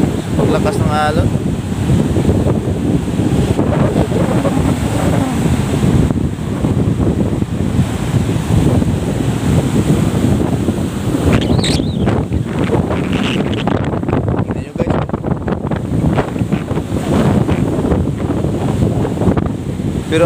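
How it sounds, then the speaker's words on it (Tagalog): Strong wind buffets the microphone over heavy surf near a boat during the Amihan monsoon, a steady loud roar of waves and gusts filling the whole stretch without pause. "Sobrang lakas ng alon."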